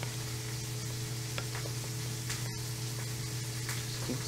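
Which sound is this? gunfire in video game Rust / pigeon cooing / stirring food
stirring food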